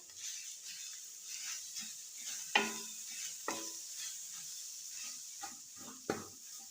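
Boiled, mashed potatoes being stirred into aloo kachori stuffing in a pan, with soft scraping and a few sharper clinks of a spoon against the metal over a faint background hiss.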